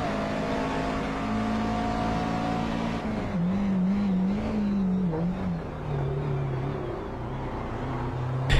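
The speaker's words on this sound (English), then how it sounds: "Really get a good sense of the speed of these cars." Race cars speed around a track in a steady engine roar. One car's pitch rises and falls as it passes fairly close, while others drone in the background.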